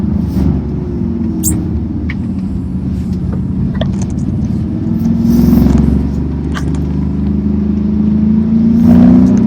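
An Audi SQ7 diesel accelerates hard from inside the cabin, its engine a loud, low rumbling drone that swells as speed builds, with occasional knocks and clatter and no talking.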